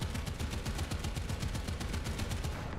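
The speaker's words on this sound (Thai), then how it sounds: "แล้วปืนกลสาดนี่ฮะโดน" Rapid machine gun fire in the War Thunder tank game, a continuous fast rhythmic burst of evenly spaced shots, loud and sustained throughout with no talking.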